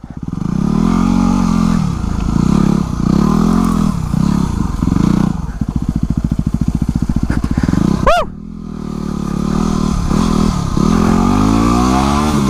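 A Yamaha WR250R motorcycle ridden hard, engine loud and close with repeated revving rises and falls, a fast stuttering patch as the bike slides, then a sharp squeal-like sweep before it pulls away again.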